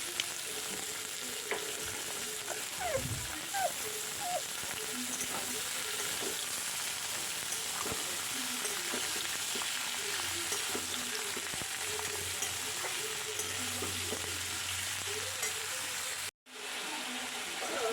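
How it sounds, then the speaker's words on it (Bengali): Vegetables sizzle and fry in a pan with fried onion and garlic, a continuous loud crackle broken by occasional stirring scrapes, with no talking, ending in a brief silence. "এর মধ্যে আমি দিয়ে দেবো সবজিগুলো দিয়ে দিচ্ছি। দিয়ে সবজিটা ভালোভাবে নাড়াচাড়া করে"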